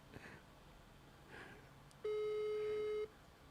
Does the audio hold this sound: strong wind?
no